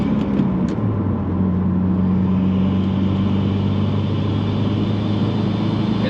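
A 2018 Subaru WRX fitted with a GrimmSpeed turbo inlet drives at a steady cruise, its engine giving a continuous loud drone with a low steady tone and no big revs.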